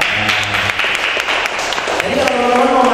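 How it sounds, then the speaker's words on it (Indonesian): Applause from an audience at an entrepreneurship community event with Ciputra in Malang, a steady crowd clapping that fills the whole stretch while voices carry on underneath. "tepuk tangan dong Ciputra ya"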